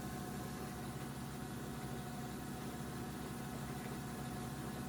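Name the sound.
lapidary 220 grit grinding wheel shaping agate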